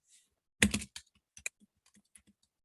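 Computer keyboard typed on in brief, close bursts: a quick cluster of clicks, then scattered individual keystrokes trailing off in near silence.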